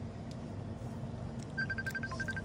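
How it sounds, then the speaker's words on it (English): A mobile phone rings with a repeated electronic tone that starts partway through, heard outdoors beside a carp fishing lake over steady low background noise. "phone's going"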